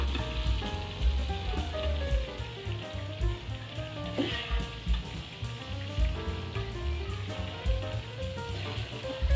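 Onions and tomatoes fry in ghee in a pan on low heat for chicken korma, a steady close crackling sizzle running throughout with no talking.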